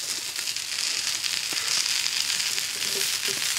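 Vegetables coated in oil sizzling on a campfire grill, a steady hissing crackle that stays even throughout, with a few faint pops and no voices.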